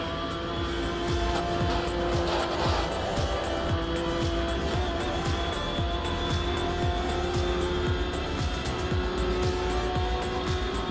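McLaren race cars in a racing game, engines droning steadily at high revs with repeated gear shifts and a brief tire squeal, several cars close together, loud and continuous without pause.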